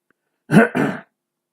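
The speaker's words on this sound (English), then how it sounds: "got a cough" A single short, throaty cough in two quick bursts, close and loud, surrounded by silence.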